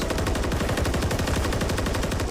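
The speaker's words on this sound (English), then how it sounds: "There's the opening hail of gunfire again." Rapid bursts of automatic gunfire in a video game at an esports tournament grand final rattle continuously and loudly, a dense stream of shots with no pauses or voices.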